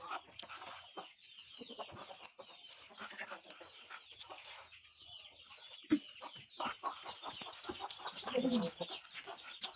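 A flock of chickens clucks busily and continuously at close range as they are fed vegetable scraps from a plate, with overlapping calls and scattered louder squawks.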